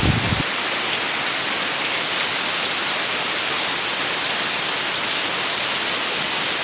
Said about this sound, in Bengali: তো বৃষ্টি হচ্ছে